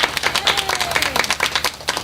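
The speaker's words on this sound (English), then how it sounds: "let's give them a round of applause." Audience applause for people who drove in from Vegas, a dense patter of many clapping hands at a seminar, steady and fairly close, with some cheering voices mixed in.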